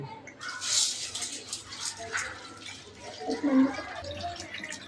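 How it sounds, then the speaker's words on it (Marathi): Lentils are rinsed under running water in a home kitchen, with a splashing, gurgling stream swelling and easing close by as a voice talks over it. "आता आपण 3 वेळा डाळ पाण्याखालनं धुवून घेऊ."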